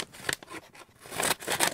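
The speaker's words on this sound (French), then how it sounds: "alors ça je vais devoir couper parce qu'il y a du scotch" Scissors snip through sticky tape sealing a mailed envelope, a few quick close crisp cuts over about two seconds.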